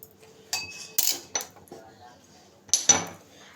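Lemon pieces and mint being pounded for juice, heard as a handful of hard, irregular knocks and clinks spaced across a short stretch, close and fairly loud against a quiet background.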